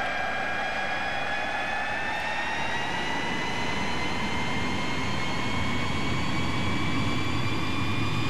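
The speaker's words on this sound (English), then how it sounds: "since we know that there's a lag time between when I pull the throttles up and the engines actually kick in" An L-39 Albatross jet in Flight Simulator X spools up with brakes held, a loud steady turbine roar with slowly rising whine tones and a heavy low rumble throughout, no voices.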